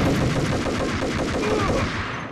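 Gunfire in the video game Max Payne: a dense, continuous stream of rapid shots, loud and close, lasting a couple of seconds and tapering slightly at the end, with no voices.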